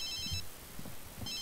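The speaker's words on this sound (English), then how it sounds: "Whose phone is ringing?" A phone rings in The Sims 3 video game: two short trilling bursts, one at the start and one at the end, faint and thin over a quiet background.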